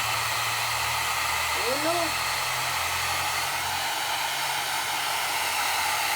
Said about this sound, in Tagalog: Kaya alam niyang i-blower siya.